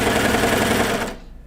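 A Baby Lock serger stitches pajama fabric in a fast, steady, loud mechanical whir that cuts off abruptly near the end, with no voices.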